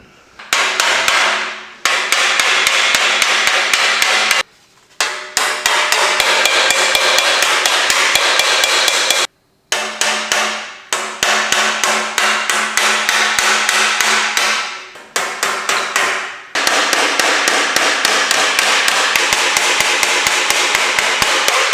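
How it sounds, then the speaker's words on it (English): Loud, rapid metallic hammer blows on a dented, rusty Porsche 356 body panel in long bursts, separated by short pauses, close by with a ringing clang. "I really should probably be hammering on all of this"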